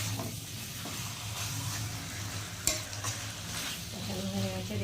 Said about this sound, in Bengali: আমি এখন মশলার সাথে একটু কষিয়ে নিই